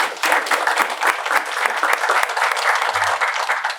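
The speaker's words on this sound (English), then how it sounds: "Quick round of applause from everybody in the room who's an account executive" Steady applause from a room full of people at a sales panel event in San Francisco, dense clapping sustained throughout without pause.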